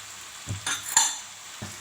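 A metal spoon stirs Schezwan fried rice in a pan with coriander leaves added, giving a few quiet scraping clinks spread unevenly over two seconds, close up and without talk.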